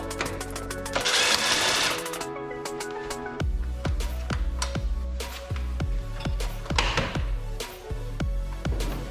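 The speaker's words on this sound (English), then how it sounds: "with a T40 Torx bit, we're going to remove the 4 bolts that hold on the front fascia" A power driver fitted with a T40 Torx bit spins out the four bolts holding the front fascia on a 2022 RZR Pro XP, giving a loud whirring burst, then a series of sharp rhythmic clicks and taps close by.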